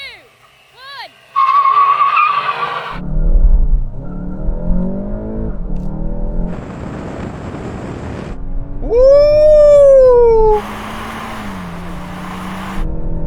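VW Golf GTI cars race hard, with engines revving through gear changes, tires screeching in long skids, and a brief quiet gap between bursts, as a voice whoops with excitement.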